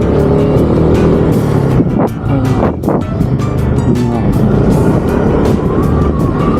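A motorcycle loaded with heavy sand and rocks labours along a rough trail, its engine roaring loud and close with constant rumble and jolting surges, wind buffeting across the whole stretch.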